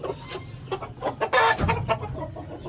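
An Aseel rooster clucks close by in a string of short, choppy calls, rising into a louder burst midway before trailing off into quieter clucks.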